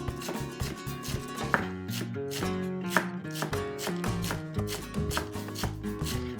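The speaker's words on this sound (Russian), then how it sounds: "Мелко порезаем зелень." Fresh herbs finely chopped with a knife on a board, a quick steady rhythm of close, crisp blade taps heard over quiet background music.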